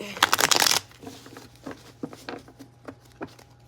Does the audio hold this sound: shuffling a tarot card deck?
yes